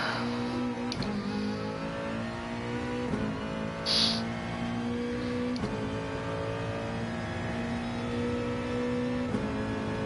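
Race car in the GT Sport video game on the Saint Croix track, its engine note dropping under braking in second gear and then climbing again as it accelerates out, loud and steady throughout.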